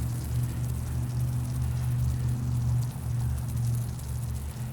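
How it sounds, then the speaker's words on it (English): A water spray hisses steadily over garden flowers in the morning, a continuous close patter of droplets with a low hum underneath, even and unbroken. "And I just give all the flowers a little drink of water in the morning."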